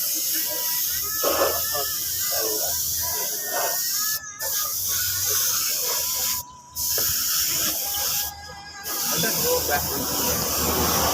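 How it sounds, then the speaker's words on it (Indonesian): Black paint sprayed from a spray gun onto the left and right sides of a motorcycle body at a roadside workshop, a steady loud hiss with brief pauses between passes, under background traffic and voices. "ini kita langsung semprot saja cat warna hitamnya ini bagian kiri kanannya"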